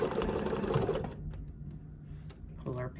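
A sewing machine stitches fabric in a short, fast, buzzing run of about a second, then drops away to a quiet room with faint light handling sounds.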